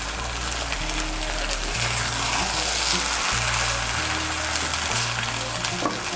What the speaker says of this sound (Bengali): ধনেপাতা কুচিটাকে হালকা হাতে মিশিয়ে নেব